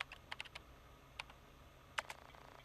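Quiet, sparse keystrokes on a computer keyboard while playing a typing-based game at a terminal, coming as scattered clicks and small bursts with pauses between them.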